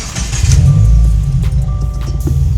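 A car engine starts close by, the low rumble swelling within the first second and settling into a steady, throaty idle.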